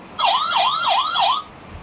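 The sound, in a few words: police car siren from electronic learning book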